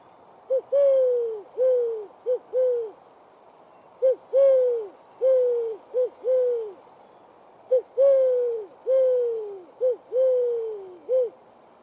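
A voice imitates a wood pigeon, repeating a soft hooting coo phrase of several notes three times in a rhythmic pattern, close and clear.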